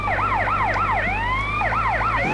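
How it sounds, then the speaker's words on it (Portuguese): Police car siren in the GTA San Andreas video game, wailing in rapid up-and-down sweeps that briefly switch to a slower rising tone before the fast yelp resumes, loud and close over a low engine drone. "Já chega de sirene de polícia."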